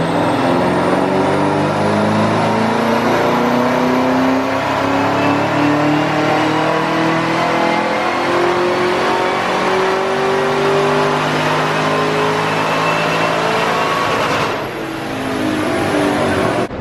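A 2017 Camaro ZL1 supercharged V8 with a cold air intake revs hard and continuously on a dyno, its loud engine tone climbing steadily for about fourteen seconds before briefly dropping and picking back up.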